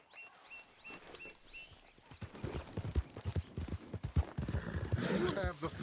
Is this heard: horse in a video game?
yes